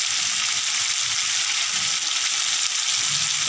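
Ground turmeric, chili powder, cumin and coriander sizzle steadily in hot oil in a pan, a loud continuous frying hiss with no pauses and no voices.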